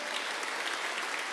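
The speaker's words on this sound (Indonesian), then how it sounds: "Tepuk tangan buat dia." A crowd at a church celebration service claps in dense, steady applause that fills the whole moment evenly.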